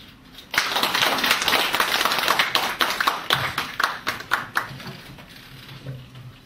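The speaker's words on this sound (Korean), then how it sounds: "예술전당 우리 고학장 사장님께 다시 한번 여러분 뜨거운 박수 보내주시기 바랍니다" Audience applause at an international peace forum: dense, loud clapping from many hands that gradually thins into scattered, distinct claps and fades out.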